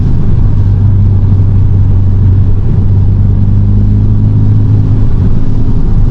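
A VW Golf GTI accelerates hard at night with its wheels spinning and losing traction, giving a loud, steady engine drone with a sustained low tone that rises slightly in pitch before cutting off.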